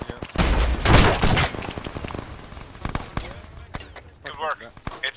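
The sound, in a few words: gunfire shooting at a BTR armoured vehicle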